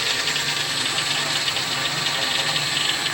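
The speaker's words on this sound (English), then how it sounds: "we press the motor. Motor is starting." The motor of a ferrule grinding machine runs steadily in manual mode, giving a constant mid-pitched mechanical hum with a faint rattling vibration and no change in speed.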